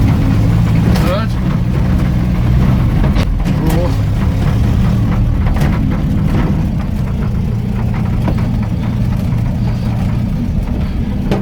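A 1980 Land Rover Series 3 109 engine droning steadily at close range as it drives in low range through the gears, loud and continuous, with someone talking over it.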